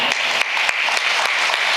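Applause from a crowd at a temple festival performance, a steady, dense roar of many hands clapping, loud and even throughout.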